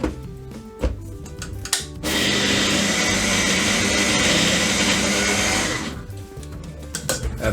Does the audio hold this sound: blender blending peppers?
yes